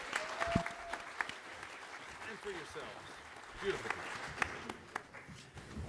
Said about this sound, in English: So please give a round of applause for Brandon Allinger, Tom Spina, Stephen Lan